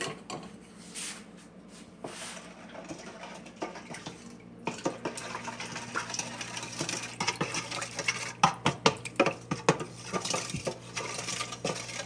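Bread dough of four ingredients including yeast being mixed by hand in a bowl, giving irregular clatter and clicks that build into a busy, close run of knocks and scrapes with a steady low hum underneath.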